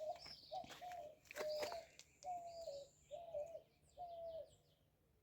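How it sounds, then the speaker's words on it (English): A bird coos repeatedly in a steady rhythm, about five drawn-out calls close by, with fainter chirps and insects in the background. "I just went silent for you to listen to the birds"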